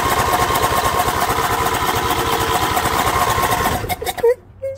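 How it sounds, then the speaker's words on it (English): An electric fuel pump on a lawn tractor runs with its line disconnected at the carburetor, a fast steady buzzing tick close to the microphone that cuts off near the end, followed by a short voice. "So this pump's working good."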